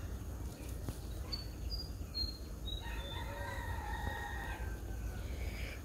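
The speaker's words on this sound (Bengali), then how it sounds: "মোরগ আছে না" A rooster crows in a rising, stretched call partway through, faint and distant, over a quiet foggy morning background with insects chirring and no talk.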